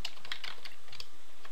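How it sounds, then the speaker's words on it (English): Quick keystrokes tap on a computer keyboard during spreadsheet work, a close, crisp run of about eight clicks in under two seconds. "if I typed in the word true"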